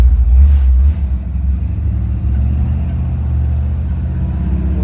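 A Chevrolet small-block 350 V8 with a four-barrel carburetor and MSD ignition revs hard at full throttle during a test drive, a loud, deep, continuous engine roar that surges at first, then holds a heavy rumble.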